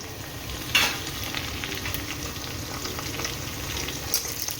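A generous amount of garlic sizzles in hot oil for a spicy dry potato curry, a steady close frying hiss with a brief clatter near the start and no talking.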